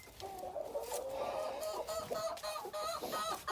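Ornamental chickens and roosters from a Polish breeder's flock cluck and squawk in overlapping, rising calls, several birds close together and fairly loud with no talking.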